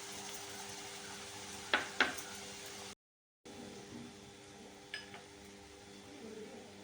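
Masala vadi filling ingredients, garlic among them, dry-roasting in a pan: a faint, steady hiss of stirring with two quick scraping clicks near the start, a brief cut to silence, then one more soft tap.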